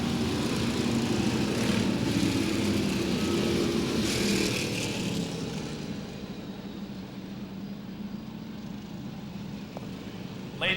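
SK Modified race cars with 600-plus horsepower engines drone steadily at Waterford Speedbowl in 1995, a loud continuous roar that eases slightly partway through as the cars throttle through the turns.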